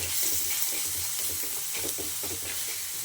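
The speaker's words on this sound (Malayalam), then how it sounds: "2 തണ്ട് ഇത് വഴറ്റുന്ന സമയത്ത് നല്ലത് ഇളക്കണം കേട്ടോ" Curry leaves sautéing in a pan with steady hissing sizzle and scraping stir strokes throughout, close and moderately loud, no talking.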